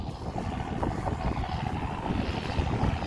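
Outdoors in a farm field, wind buffets the microphone with a constant low rumbling roar that gusts slightly over a few seconds.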